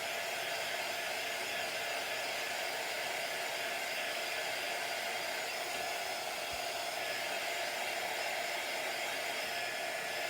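A hair dryer blows steadily and loudly at close range for the whole stretch to dry acrylic paint on a nativity craft kit, a constant unbroken whoosh with no talking.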